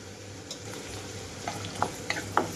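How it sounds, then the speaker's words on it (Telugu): Halved red chillies and a green chilli sizzle in a little hot oil over low-to-medium flame, a soft steady fry with a few light stirring clicks near the end. "పండు మిరపకాయలని మధ్యలోకి కట్ చేసి కొద్దిగా ఆయిల్లో వేయించుకుంటున్నాను"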